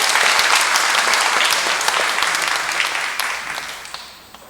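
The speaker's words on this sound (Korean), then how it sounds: "이분들을 위해서 큰 박수 좀 부탁드리겠습니다" A crowd at a monthly church brotherhood meeting claps for the members being introduced. The applause is dense and sustained, then fades gradually toward the end with scattered last claps.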